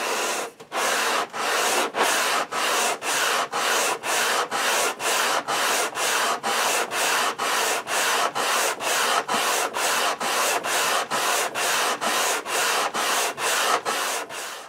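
A maple guitar neck hand-sanded with 80 grit sandpaper, loud, close, even back-and-forth strokes in a very regular rhythm, each gritty rasp separated by a brief pause.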